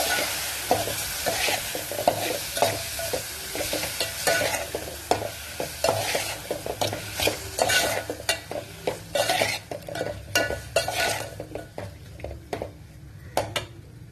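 Chopped tomatoes sautéing in oil in a kadai with bay leaf, clove, stone flower, cinnamon and salt, giving a steady sizzle broken by frequent close scraping stir strokes.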